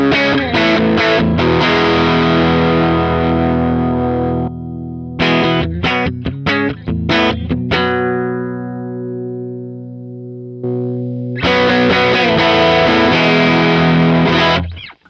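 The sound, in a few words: electric guitar with overdrive effect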